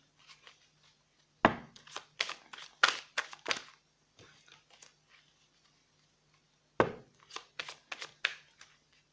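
Crisp, close bursts of a tarot deck being shuffled and cut by hand, two clusters of rapid riffling snaps separated by a quiet pause, with faint low hum beneath.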